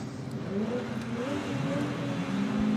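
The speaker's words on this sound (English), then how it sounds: "Jeff Jones, that supercharged Evil Autoworks Nissan 370Z" Jeff Jones's supercharged Evil Autoworks Nissan 370Z drift car at a Formula Drift round in New Jersey, its engine droning steadily from a distance with a wavering pitch as it revs across the course, with no voices.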